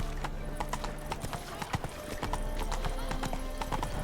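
Roach, the horse in The Witcher video game, gallops with rapid rhythmic clip-clop hoofbeats and a brief whinny, while a player talks over the game sound.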